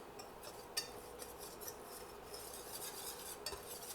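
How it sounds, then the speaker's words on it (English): Butter and Carbquick are stirred in a pan with a utensil, making soft, continuous scraping and rubbing with light clinks against the metal, quiet and close, with no speech. "So throw that in and just keep stirring this, keep moving it"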